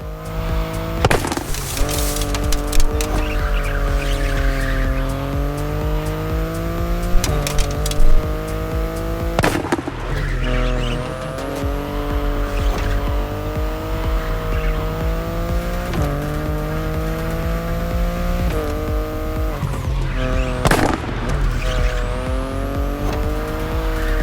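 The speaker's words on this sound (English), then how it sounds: "the i8, the sports car you're driving" BMW i8 hybrid sports car driven in The Crew Motorfest, its engine droning steadily throughout with shifting pitch as it accelerates and changes gear, with occasional tire squeal and loud bursts over a continuous backdrop.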